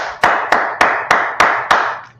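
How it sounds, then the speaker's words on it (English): Six sharp, evenly spaced hand claps at a church sermon, loud and close, each ringing out briefly before the next, with no talking between them. "let's clap it up for the Lord"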